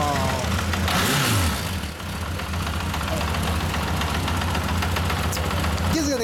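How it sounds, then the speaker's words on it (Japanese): A 1980 Honda CB750 Custom Exclusive motorcycle engine idles with a steady, low mechanical rumble that stays loud and even throughout, while people talk nearby. "どうぞエンジンかけてもらいます。"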